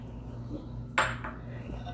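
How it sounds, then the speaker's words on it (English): Utensil stirring shrimp scampi in an Instant Pot, giving one quick metallic clink against the pot over a low background hum. "Quick stir."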